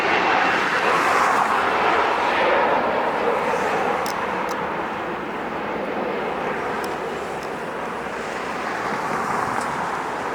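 An ANA Cargo Airbus A330 climbs away from LAX with a broad, steady jet roar that fades gradually into distant rumble, with a few faint clicks over the top.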